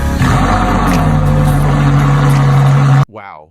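A Ferrari 458 engine revs hard, a loud sustained roar that climbs in pitch and holds steady before cutting off abruptly into a brief fading echo.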